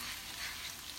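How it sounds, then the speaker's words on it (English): Carbonara sauce stirred in a pan with the heat off, a steady soft hiss of residual sizzle and gentle stirring, even and close with no voices. "we're going to finish it, stirring it up and mixing all the flavor"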